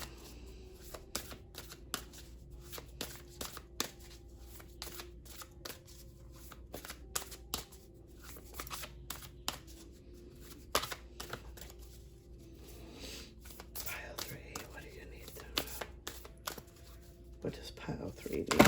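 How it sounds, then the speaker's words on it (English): Oversized cards riffle and snap in repeated quick bursts, close and crisp, with faint soft sounds between shuffles. "These cards are so big, it's so hard to shuffle."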